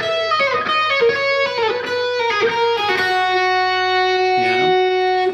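Overdriven electric guitar runs through a complete solo, a loud close lead line of choppy phrased notes with pull-offs and sustained tones, finishing with a wavering vibrato note.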